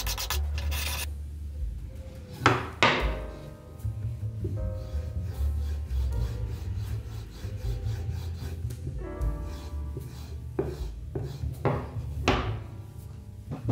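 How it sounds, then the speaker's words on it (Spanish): A chisel edge is honed on a paddle strop loaded with green polishing compound, producing steady close rubbing and scraping strokes broken by a few sharper knocks. "Asentamos nuestro filo con la ayuda de un asentador de paleta y pasta verde para pulir."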